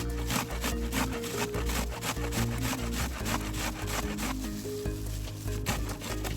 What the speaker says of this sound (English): See, I can just shred these with this grater.